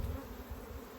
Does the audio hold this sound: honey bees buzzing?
yes